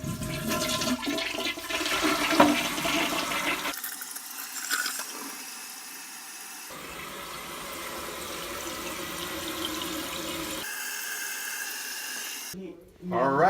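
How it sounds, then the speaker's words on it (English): A toilet flushes right after a new fill valve has been installed, giving a loud rushing gush that then settles into a steady, quieter refill hiss. Brief voice fragments are heard partway through. "moment of truth. We'll give it a flush."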